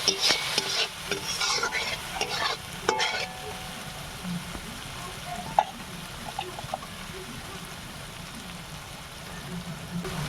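Spice paste fries and is stirred in a pan with a little water added, giving a crackling sizzle and busy scraping strokes, louder at the start and settling into a steadier hiss, with no talking.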